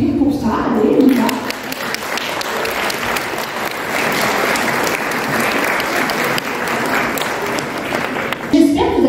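Seniors in a hall at a town-hosted meal and dance in Lagny-sur-Marne break into loud, sustained group applause, with crowd voices mixed in near the start and end.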